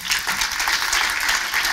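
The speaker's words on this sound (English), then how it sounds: "please give a warm round of applause for Phuong Nguyen" An audience at a corporate data talk gives a round of applause for the speaker, a steady wash of many hands clapping throughout, moderately loud and evenly sustained with no talking.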